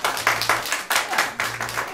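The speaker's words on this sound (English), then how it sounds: "What would that kind of applause sound like from you?" A small improv comedy audience gives a modest round of applause: scattered claps in a loose, rhythmic pattern, fairly close and moderately loud, with no voices.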